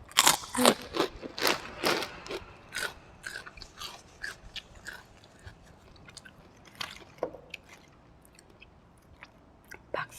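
Crispy pork rinds crunch in a steady run of bites and chews close to the mic, eaten alongside a bowl of small-noodle pork blood soup.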